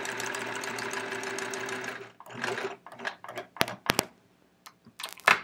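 A home sewing machine stitches a row of a chevron quilt, a fast steady whirring hum for about two seconds, then stopping and restarting in short bursts with clicks of handling.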